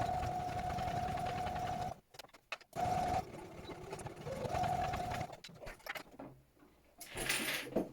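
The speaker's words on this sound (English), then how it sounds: "And now I'll sew down the other side." Sewing machine stitching the side seam of a slipper made with thermal batting: a near, steady motor hum with rapid needle patter in several bursts separated by short pauses and small handling rustles.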